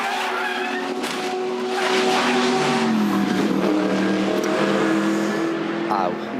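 Race cars at the Bathurst 12 Hour roar past at close range, with engine notes shifting, brief tire squeal and skidding, while commentators talk over the action.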